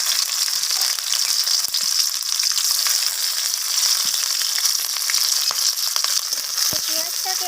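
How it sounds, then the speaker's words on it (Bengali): Sliced onions fry in mustard oil in a wok, giving a loud, steady, hissing sizzle throughout with a few faint spatula scrapes and no voices. "পেঁয়াজটাকে আমি হালকা লালচে রং ধরা পর্যন্ত পেঁয়াজটাকে আমি ভেজে নিচ্ছি"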